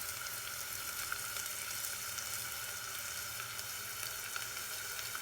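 Banana fritters (pazham pori) fry in hot oil, giving a steady, soft sizzle and crackle that carries on evenly without any talk.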